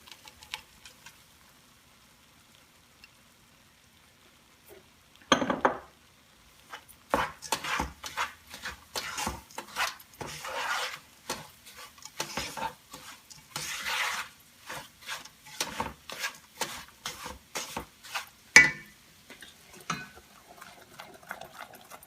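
Almonds are stirred in a pan of melted mixture during Gujarati gundpaak cooking: after near-silence, a sequence of close, irregular scraping and clattering strokes repeats, with occasional sharper knocks, and no talking.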